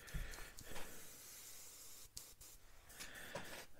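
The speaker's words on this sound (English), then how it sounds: "I'm running at roughly about 15 psi. And we'll just do a quick test spray." Short bursts of faint hiss from an airbrush test-spraying paint at about 15 psi while building a Revell Lockheed Ventura PV-1 scale model, heard close with no talk.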